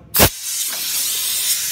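Air hisses through a radiator system while an Airlift tool pulls a vacuum, opening with a short loud burst and then settling into a steady, close, continuous hiss.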